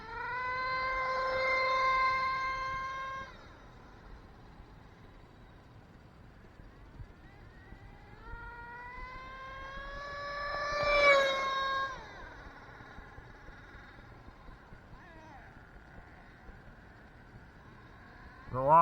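A RedCat Racing Earthquake 3.5 RC truck's electric motor whines in rising and falling pitch sweeps, loud at first, then easing off before a second sharp surge peaks and fades, with no talking.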